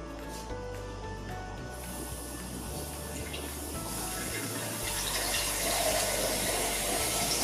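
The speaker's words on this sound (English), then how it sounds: "inside the beaker, we have to add water, and we will start the process of decanting the sample" Water pours steadily from a tap into a glass beaker holding a crushed rock mineral sample, a continuous hissing splash that grows slightly louder and fuller as the beaker fills.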